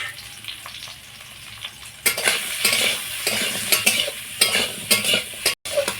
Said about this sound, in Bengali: নুন হলুদ দিয়ে কাঁকরোলগুলো ভেজে নিয়েছি